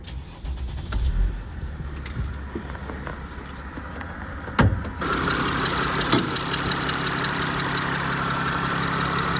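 A 3.0-litre Mercedes Sprinter van diesel engine cranks and catches, then settles into a steady, slightly clattery idle with a rhythmic ticking knock; close by, no voices.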